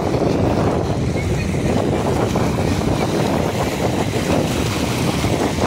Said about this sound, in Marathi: बघा, लाटा अशा व्हायच्यात जोरात मोठमोठ्याने लाटा बघा अशा व्हायच्या